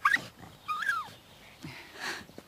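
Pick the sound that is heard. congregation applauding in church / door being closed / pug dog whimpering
pug dog whimpering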